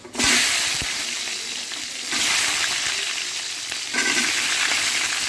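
Cumin, garlic and green chili fry in hot soybean oil for a taro dish, giving a loud, continuous close sizzle with bursts as ingredients hit the pan and occasional stirring clatter.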